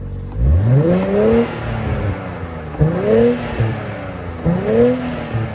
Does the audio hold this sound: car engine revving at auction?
yes